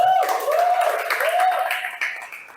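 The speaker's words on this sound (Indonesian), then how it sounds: "Tepuk tangan lagi buat Teras Cempaka." Audience clapping at a stand-up comedy show in Central Jakarta, a steady wash of applause lasting a few seconds, with a thin wavering tone gliding above it and tapering off near the end.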